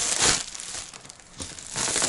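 Crinkling of a sealed plastic mail-order bag being torn open, close rustling bursts at the start and end with a quieter pause between.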